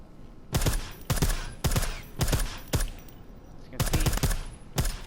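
A silenced gun fires in the video game Deus Ex Mankind Divided, seven sharp, close thumping shots in a fairly regular rhythm about half a second apart, some in quick pairs, with a faint game ambience between them.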